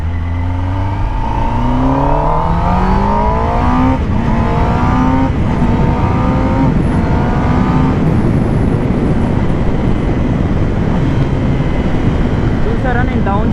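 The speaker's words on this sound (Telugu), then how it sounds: "చూసారా నేను డౌన్ షిఫ్ట్ క్లచ్ పట్టుకోకుండా చేశాను." A Kawasaki ZX-10R motorcycle engine revs hard close by, its pitch climbing through several quick upshifts before clutchless downshifts, with wind roar under a loud, continuous exhaust note.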